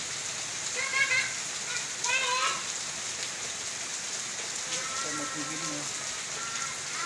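Heavy rain pours steadily onto a house, a dense continuous hiss with drumming on surfaces, while a voice speaks now and then underneath.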